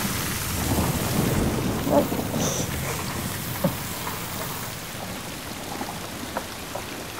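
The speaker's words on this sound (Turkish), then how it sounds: "Nereden çıktı bu yağmur?" Steady rain pours down in a continuous wash of hiss with scattered drips and faint low rumbles beneath, heard at a moderate distance with no voices over it.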